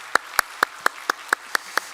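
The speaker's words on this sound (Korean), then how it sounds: "귀한 말씀 감사한 마음으로 박수로 격려하겠습니다" A church congregation at a Sunday service claps together in steady unison, making eight sharp, evenly spaced claps at a moderate distance.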